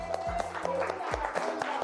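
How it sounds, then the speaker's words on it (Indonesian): Children clap in a classroom, a short flurry of uneven hand claps mixed with background chatter and thumps, fairly faint and brief. "Kasih tepuk tangan dong."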